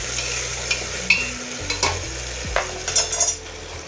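Tomato pieces cooking down in a pan for sambar rice, with a steady sizzle under spoon stirring, scattered clinks and scrapes against the pan, and a low hum running through; no talking.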